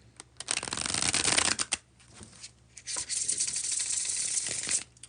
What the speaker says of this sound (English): I know y'all wait patiently for the bridge shuffle, and I do appreciate that.